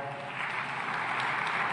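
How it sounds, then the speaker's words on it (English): An audience at an African food systems forum gives continuous, even applause for a minister, a dense clapping wash held at steady loudness throughout. "A big round of applause for her as well, please."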